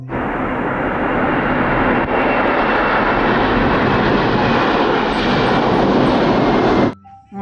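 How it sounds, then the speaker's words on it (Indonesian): A toy airplane plays a loud, steady recorded jet engine roar, broad and continuous for about seven seconds before cutting off abruptly at the end. "Pesawat terbang."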